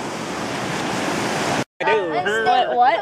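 Ocean waves and surf rolling in, a broad steady wash of noise buffeted by wind on the microphone for over a second, then cut off abruptly and followed by a voice talking.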